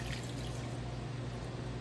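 Wild lettuce tincture, with the roots and plant matter left in, is poured out in a steady, close liquid trickle lasting under two seconds.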